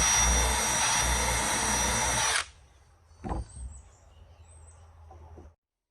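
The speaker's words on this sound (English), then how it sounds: "Drill the hole, let's ring it just a little bit." A loud power drill whines steadily for a couple of seconds boring a hole in PVC pipe, then stops, leaving a quiet space with a few soft knocks and faint background sounds.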